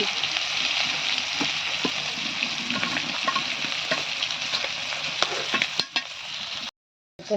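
Fish frying in a pan on a home kitchen stove gives a steady, close hiss of oil that runs almost the whole time, with scattered pops and spatters and a brief break near the end.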